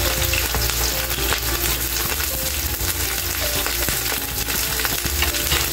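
Chicken liver frying in a pan for adobo, a dense, continuous crackling sizzle with small pops throughout, loud and close with no voices.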